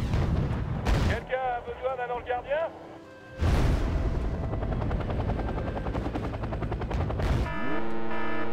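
Helicopter rotor roar in the Wargame video game, a dense continuous drone with bursts of gunfire and explosions, one loud impact midway, voices talking over parts of it.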